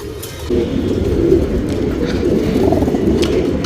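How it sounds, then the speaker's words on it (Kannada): A male fancy pigeon coos in a steady, low, rolling murmur, close and continuous for a few seconds with no talk over it. "ಇದು ರೇಗ್ದಾರಲ್ಲಿ ಗಂಡು ಹಕ್ಕಿ"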